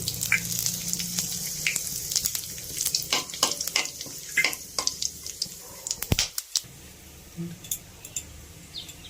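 Whole spices sizzle in hot oil: garam masala, bay leaf and dried chilli, with clove, cardamom and cinnamon. Soft crackling and frying pops come through alongside stirring clinks and scrapes.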